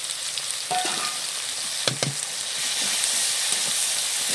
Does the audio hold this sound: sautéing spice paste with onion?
yes